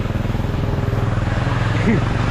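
A motorcycle engine runs at a low, steady putter, with voices talking over it and a brief rising whine near the end.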